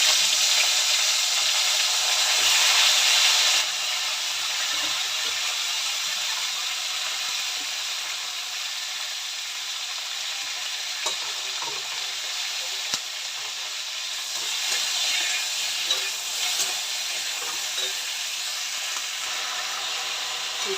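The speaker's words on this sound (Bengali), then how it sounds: "এবার ফুলকপি ভাজবো" Cauliflower fries in a pan of oil already used for frying fish, making a continuous dense hiss and sizzle, louder in the first few seconds and then settling to an even crackle.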